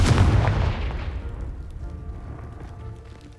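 A loud spell explosion in a video game, a heavy booming blast that hits hard at the start and then rumbles and fades over a few seconds, with no talk.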